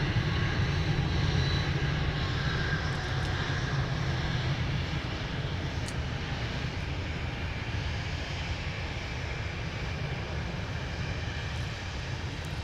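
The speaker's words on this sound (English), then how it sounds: "Air France departing back to Paris" Air France jet airliner departing Minneapolis–Saint Paul airport, a steady, loud broadband engine roar sustained without break throughout, with no speech over it.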